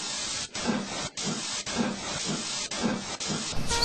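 Steam engine Gordon running fast along the main line, giving a loud rhythmic hiss of steam in regular chuffing bursts with brief gaps between them.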